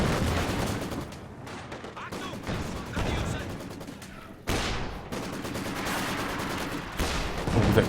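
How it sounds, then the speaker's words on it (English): Battle din from a Company of Heroes 2 match as a Raketin anti-tank gun fires on a T-70 tank: dense gunfire and booming shots, with a sharp blast near the middle, under a talking voice. "the Raketin is trying to creep up, trying to get a few shots off on the T-70"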